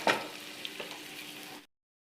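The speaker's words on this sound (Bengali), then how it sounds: "এবারে পেঁয়াজটাকে ভালো করে একটু ভেজে নেব।" Onions frying in a pan for dhaba-style methi, a bright burst of sizzle at the start settling into a steady close hiss before cutting off abruptly.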